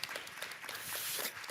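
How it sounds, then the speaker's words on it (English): An audience in a Geneva conference room at an International Dialogue for Migration side event claps for three panelists, a brief, dense burst of applause that stays fairly even and close. "A round of applause for them."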